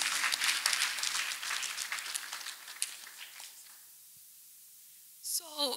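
A church congregation claps during a testimony, many hands applauding at a brisk pace and fading out after a few seconds, followed by a short stretch of quiet and then a voice speaking.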